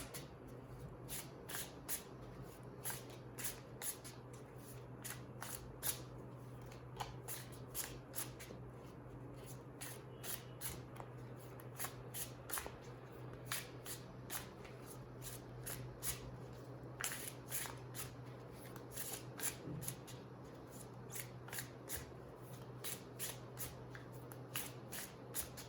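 A deck of tarot cards being shuffled by hand close up, a steady run of sharp riffling flicks and soft slaps repeating for the whole stretch with no talking.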